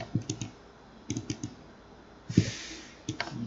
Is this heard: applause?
no